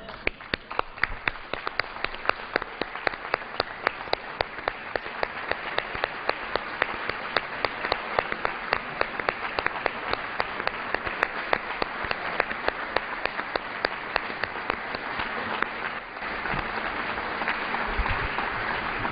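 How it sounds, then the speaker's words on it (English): A full House chamber standing and applauding, steady dense clapping sustained for nearly twenty seconds with no speech over it, slightly thinning toward the end. "I think that it's befitting if we all stand and clap"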